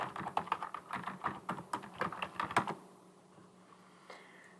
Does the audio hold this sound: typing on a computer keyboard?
yes